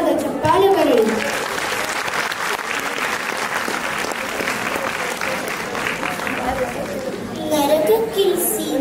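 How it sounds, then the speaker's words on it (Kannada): An audience claps loudly and steadily for a children's performance at a school Karnataka Rajyotsava celebration, with the applause mixed with chatter and children's voices, and brief speech at the start and end. "ಇದನ್ನು ಅದ್ಭುತವಾಗಿ ಪ್ರಸ್ತುತಪಡಿಸಿದ 2E ಮಕ್ಕಳಿಗೊಂದು ಜೋರಾದ ಚಪ್ಪಾಳೆ ಬರಲಿ."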